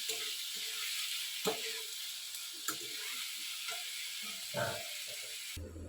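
Finely chopped green chili hitting a pan of sautéed tomato and onion, a constant soft sizzle broken by a few sharp spoon clacks and stirring scrapes, ending in a sudden louder burst.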